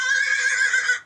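A voice imitates a ghostly horse neigh, a single loud whinny held for about a second before cutting off, with no other sounds around it.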